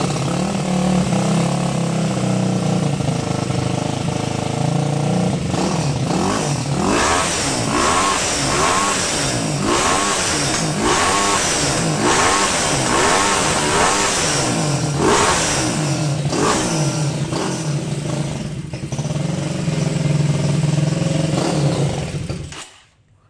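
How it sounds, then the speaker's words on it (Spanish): A CG motorcycle engine fitted with a 32 mm carburetor revs loud and close for over twenty seconds, with repeated throttle blips rising and falling over a steady idle, then cutting off abruptly at the end. "cómo acelera este carburadorcito"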